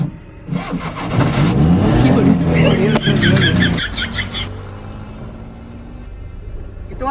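A vehicle engine is kick-started and catches, then revs loudly up close before settling toward idle, with voices talking over it.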